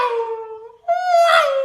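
A voice imitates an F1 race car passing on a circuit: a sustained nasal tone that dips, then rises again in a whining sweep, brief and close.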